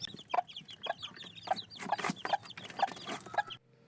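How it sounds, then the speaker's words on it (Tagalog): A hen clucks in short repeated bursts beside her newly hatched chicks, whose high peeping chatters throughout, close and fairly quiet. "Grabe naman itong mga sisiw na ito. Ilang araw pa lang matatakaw na."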